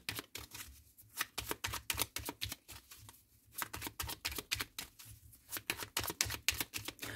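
Tarot cards are shuffled and handled up close, quick repeated flicking, riffling snaps in uneven bursts with short pauses between, fairly quiet overall.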